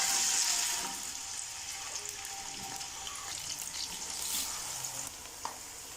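Two medium onions, finely chopped, sizzle steadily in hot oil in a pan, a close, continuous crackle with occasional stirring and no voices.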